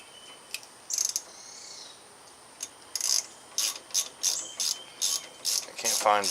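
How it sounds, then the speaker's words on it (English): A clamp on a VW outer tie rod is tightened with a makeshift tool, producing a series of short, sharp metallic ratcheting clicks in bursts, growing more regular and closer together toward the end, with no talk. "now I need to tighten up that clamp"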